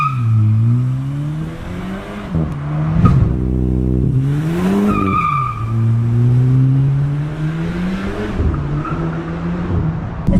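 A tuned Mk8 VW Golf GTI makes a launch-control start, the engine held at a droning rev, then climbing loudly through several gear changes with brief pops as it pulls away close by.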